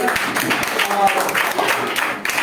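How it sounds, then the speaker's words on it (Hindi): An audience at a student award ceremony claps to welcome a guest, a loud, busy patter of hands with a voice or two mixed in over the clapping. "उनके लिए एक बार जोरदार तालियां से स्वागत करेंगे"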